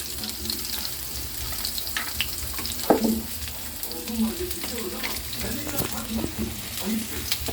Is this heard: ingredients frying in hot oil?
yes